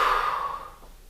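A single heavy, breathy exhale during an abs workout exercise, close and fairly loud, fading out over about a second.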